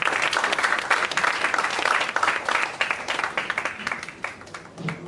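Audience applause for an expert panel at a fintech event, a dense burst of clapping from a moderate crowd that stays loud and steady, then slowly thins out.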